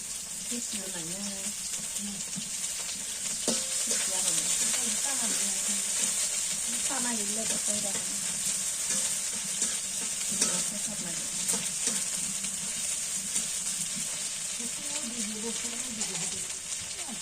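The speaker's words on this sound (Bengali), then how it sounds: "কুচি আর পেঁয়াজটা একসাথে বেজে নিই" Chopped onion and dried fish frying together in a pan, a continuous loud crackling sizzle with scraping stirs throughout, and a voice talks over it at moderate level.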